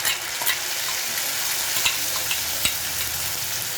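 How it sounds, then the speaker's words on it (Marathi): Tomato puree fries in a pan with a continuous loud hiss, and a few brief scraping knocks of stirring. "आणि तिकडे आता प्युरी टाकलेली आहे आपण"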